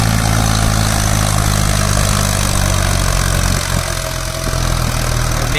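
A Mahindra Arjun 555 tractor engine runs loud and close, a steady low diesel drone with a slight dip in revs midway, while the wheels spin in place, no talking.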